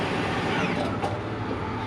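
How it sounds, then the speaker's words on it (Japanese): A 2000cc Toyota Prius 60-series engine heard from outside the car at night, a steady, subdued hum and whir with a faint mechanical whine, continuous and moderately distant. "車外でのエンジンノイズの聞こえ方。"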